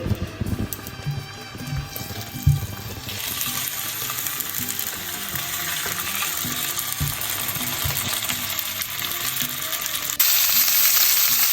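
Lamb shanks frying in a pan in oil left over from cooking peppers, giving a steady close sizzle and crackle with occasional clinks and scrapes, growing louder toward the end.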